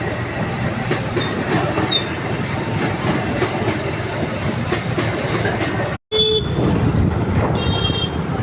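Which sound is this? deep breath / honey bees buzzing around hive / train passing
train passing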